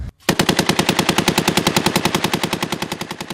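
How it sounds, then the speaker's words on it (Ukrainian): A heavy machine gun mounted on a BTR-70 or BTR-80 armored personnel carrier fires one long, rapid, continuous burst after a brief pause during crew training, loud and close, each shot distinct in a fast steady rhythm. "відпрацьовується стрільба з крупнокаліберних кулеметів та кулеметів Калашнікова з БТРів 70 та 80 серії"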